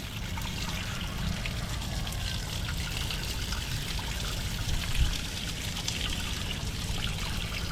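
Water trickles and dribbles out of a boat's drain hole in a faint, continuous light splashing stream, close by and steady with no talking.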